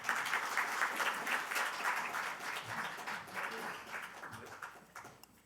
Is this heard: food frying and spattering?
no